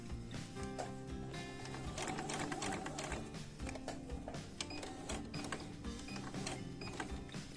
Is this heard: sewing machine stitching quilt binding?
yes